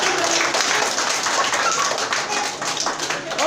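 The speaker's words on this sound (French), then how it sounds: "on peut les applaudir une dernière fois très fort" An audience claps hard and steadily in loud, dense applause that lasts the whole stretch, with no break and no voice cutting through, after a group stage hypnosis session.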